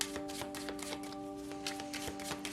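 Tarot cards being handled and shuffled in a rapid, soft flutter of papery riffles over a steady background hum, with no voice.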